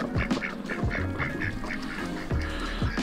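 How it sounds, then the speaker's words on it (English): Excited ducks quack near water, giving a steady run of loud, evenly spaced quacks over a dense, noisy outdoor background. "The ducks are very excited about the water."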